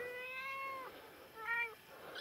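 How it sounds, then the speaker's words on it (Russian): A domestic cat, a mother carrying a white kitten, gives two clear, close meows about half a second apart, the second one brighter and slightly louder, with no talking. "да хорошая кошка, да благословит тебя Господь"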